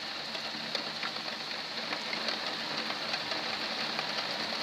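Heavy rain pours steadily in Lœuilly, France, in August, a dense, constant hiss of drops drumming on surfaces, loud and close with no voices.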